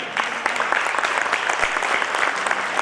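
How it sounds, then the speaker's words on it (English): A crowd claps steadily for a few seconds, a dense patter of many hands, with no speech. "We can clap for that."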